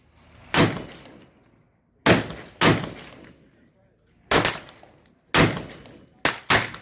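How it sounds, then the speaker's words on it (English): Six sharp shots from a Sig Sauer SP2022 9mm pistol firing 115 grain Federal ammunition at a target 300 yards away, loud and close with irregular gaps and short decaying tails. "300 yards with the SP 2022 and 9mm firing, 115 grain Federal."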